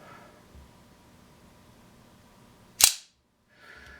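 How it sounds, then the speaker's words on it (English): A Benchmade folding knife, either the 580 Barrage or the 710, snaps open with one sharp, loud, close click in a quiet room, followed by a faint brief rustle. "Let's open both these knives."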